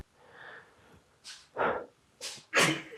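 Sharp sneezes burst out during a home resistance-band workout, a few close, loud blasts over about two seconds following a softer breathy stretch.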